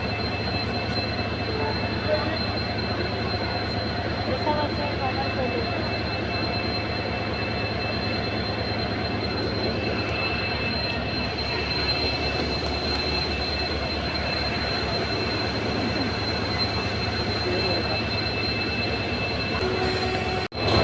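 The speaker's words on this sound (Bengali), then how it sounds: "এখন সাঁতরাগাছি স্টেশনে আছি" A train rolls through Santragachi railway station, wheels clattering on the rails in a steady rhythm while a high squeal rings over the rumble, close and continuous throughout.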